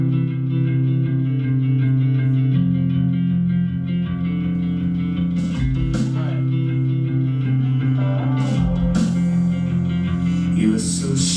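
Upbeat, fast pop song played back over a speaker in a lecture room, a steady continuous music bed with a sung vocal line, fairly loud and unbroken with no talk over it.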